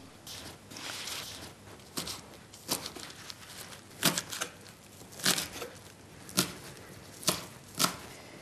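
Knife chopping fresh basil on a board, a run of crisp taps at an uneven pace, close but quiet, with small rustles between the strikes.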